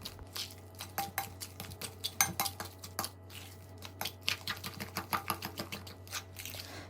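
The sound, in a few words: sugar and egg mixed to cream with spoon or fork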